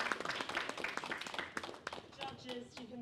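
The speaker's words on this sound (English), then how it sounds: "Round of applause, everyone, for Watchers." Audience clapping for the winner of a gaming startup pitch competition at SiGMA Americas 2024 in Brazil, a dense patter of hands mixed with a speaker talking over it through a PA.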